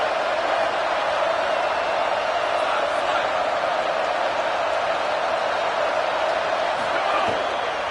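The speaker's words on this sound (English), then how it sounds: "Crowd getting this defense whipped up on third down." Football stadium crowd at a Tennessee vs Ole Miss game roaring steadily on third down, a dense, unbroken wall of cheering noise that stays loud throughout, with a broadcast commentator faintly heard.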